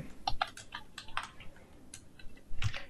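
Quick keystrokes tapping on a computer keyboard while entering text into an MS Word resume, irregular clicks close and clear, alone with no voices.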